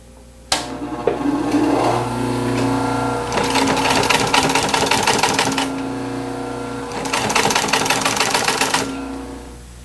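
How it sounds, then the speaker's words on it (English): Sewing machine stitching a side panel for a 1930s Art Deco chair restoration, running in two loud close bursts of rapid whirring with a quieter motor hum between them. "I'll finish sewing around this side panel and stop just short of the rear corner"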